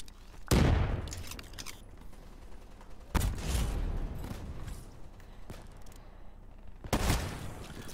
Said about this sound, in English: That's right, just casually shoot him through the wall.